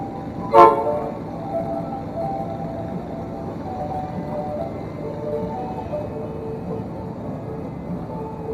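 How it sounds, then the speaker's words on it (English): One short, sharp train horn blast sounds at a Shriners parade. A low, steady rumble follows and continues to the end. "Blow your train horn."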